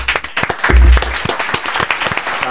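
Several pairs of hands clapping together in a podcast studio, a dense burst of sharp, close claps with a few people chattering and laughing underneath.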